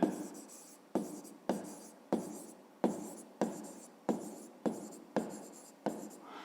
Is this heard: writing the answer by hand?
yes